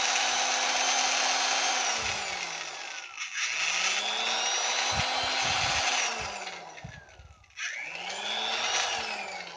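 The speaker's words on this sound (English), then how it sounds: "I'm gonna have to drill a little bit more on this just to make it a little bit" A power drill enlarges a narrow bolt hole for an aftermarket spoiler on a 1998 Eclipse GS, whining loudly in long bursts that spool down and start up again, close by and alone.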